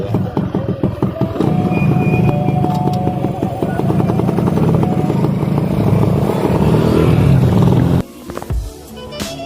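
A motorcycle engine runs steadily while being ridden slowly, a loud close rumble with rhythmic mechanical ticking that cuts off abruptly near the end, leaving a few quieter bumps.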